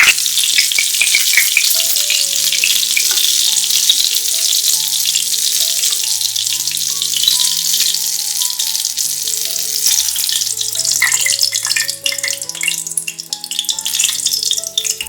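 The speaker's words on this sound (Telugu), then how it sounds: "వంకాయలు ఈ విధంగా వేగిన తర్వాత మనం వీటిని ఒక ప్లేట్లోకి తీసుకొని పక్కకు పెట్టుకోవాలి." Eggplants frying in oil, a loud continuous close sizzle with no talk, while a background music melody plays throughout.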